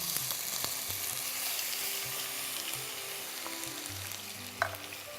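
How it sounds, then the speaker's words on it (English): Minced onions frying with spices in mustard oil for a mutton dish, a steady close sizzle with soft stirring scrapes and occasional pan clinks throughout. "So we're going to lightly caramelize this onion along with these spices in mustard oil."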